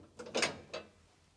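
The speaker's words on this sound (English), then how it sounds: "Before you can put the sieves into place, you have to open the tension springs." Metal tension springs on an AutoSample sample cleaner are opened with a couple of quick mechanical clicks and clunks, close and fairly quiet, with a short pause between them.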